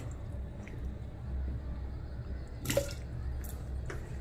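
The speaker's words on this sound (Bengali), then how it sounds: "কুকারে জল দিয়ে দিয়েছি, আলু দিচ্ছি" Raw potatoes drop into water in a pressure cooker in a home kitchen, a few brief splashes and plops against a quiet background with light clatter.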